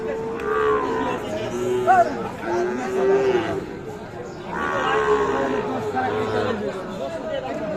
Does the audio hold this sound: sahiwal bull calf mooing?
yes